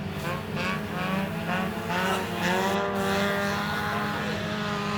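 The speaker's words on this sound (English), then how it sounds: "those cars are way louder when the door is open" Race cars lap a cold, slick racetrack at a winter night event, their engines a continuous loud droning roar with shifting pitch, like a swarm of angry bees, heard through an open door for the whole stretch.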